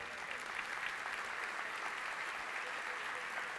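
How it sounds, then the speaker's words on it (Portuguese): Morning church congregation applauding in a sustained, even burst of many hands clapping together, holding steady throughout. "A este Deus o nosso melhor aplauso nesta manhã"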